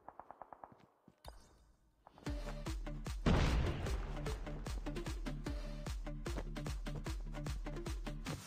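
A grenade explodes in a capture-the-flag video game with a loud boom after a few sharp clicks, followed by steady, rapid automatic gunfire that continues loud and rhythmic to the end.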